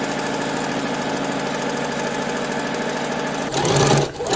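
A sewing machine stitches a long, wide gathering line along fabric for a skirt ruffle, with a steady, loud, continuous whirring hum that shifts and surges near the end.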